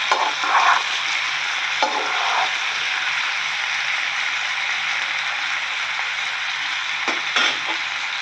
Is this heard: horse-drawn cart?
no